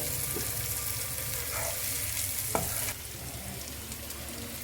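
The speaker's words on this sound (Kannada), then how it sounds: "ಮಸಾಲೆ ಹೀಗಾಗಬೇಕು. ಇದ್ರವರೆಗೂ ಫ್ರೈ ಮಾಡಿರಿ, ಇದ್ರವರೆಗೂ ಫ್ರೈ ಮಾಡ್ಕೊರಿ." Masala fries in a pan for Punjabi chicken masala, a dense continuous sizzle close up with a few quick spatula scrapes and a sharp tap, the hiss easing slightly in the second half.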